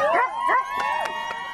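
Sled dogs at the start of a Yukon Quest sled dog race, loud overlapping howls and yips from several dogs close by, rising and falling in pitch.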